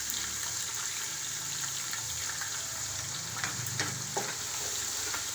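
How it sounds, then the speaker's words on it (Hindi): Whole garam masala spices fry with garlic in a pot while a spoon stirs them, making a soft, steady sizzle with faint scrapes and clinks of the spoon. "मैं चम्मच चला रहा हूँ, हल्का सा उनको भूनूंगा"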